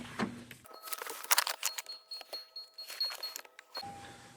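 Car keys jangle in a Lexus IS while the ignition is switched on, a bright metallic rattle of several close, clustered clinks that fades out after a few seconds.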